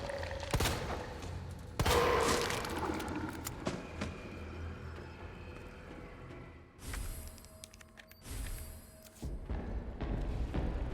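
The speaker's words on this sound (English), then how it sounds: "Using the 1911 to down this one, since I've got a few shots to spare" Several sharp 1911 pistol shots in Resident Evil 2, spaced irregularly among thuds and bursts of game action and ambience, fairly loud and close.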